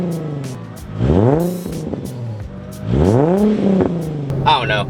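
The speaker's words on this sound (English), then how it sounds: "let's give it a couple of revs" A Toyota GR86 (2022 or later) engine revs up twice in quick bursts, rising and falling loudly and close by, with a short lighter sound at the end.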